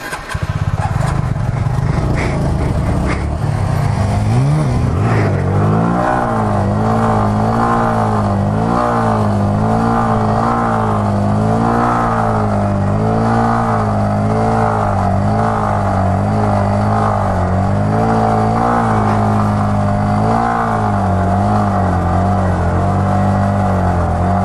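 A motorcycle engine revving hard and repeatedly for a wheelie, loud and near, with rising and falling throttle surges over a continuous roar throughout.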